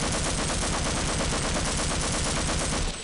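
Rapid, continuous gunfire fills a Half-Life (1998) firefight, loud dense bursts repeating in a steady rattling rhythm without pause and with no voices.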